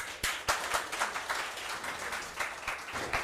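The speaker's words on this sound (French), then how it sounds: "on applaudit" Audience applause at a school quiz match between two lycées, a fairly faint spread of individual claps with a few sharper near hits standing out over the steady patter.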